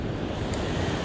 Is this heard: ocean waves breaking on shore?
yes